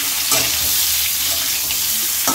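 Mango pieces frying and being stirred in a pan for a sweet-sour jaggery mango dish, a dense continuous sizzle with occasional scraping stirs, close and loud throughout.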